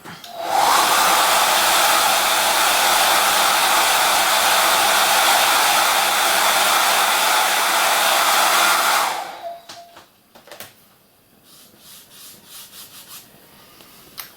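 A hair dryer blowing on paint to dry it: a loud, steady, close whoosh for about nine seconds, then it cuts off and leaves faint handling noises and small clicks.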